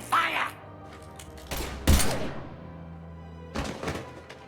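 Gunfire in Mass Effect 3, sharp heavy blasts in a few separate bursts with quiet gaps, the loudest near the middle and another pair toward the end, with faint speech around them.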